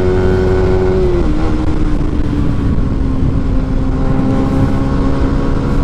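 A 2021 Yamaha Sniper 155 motorcycle engine revs loud and close during a test ride, holding a high, steady drone with one slight drop in pitch, and no talk.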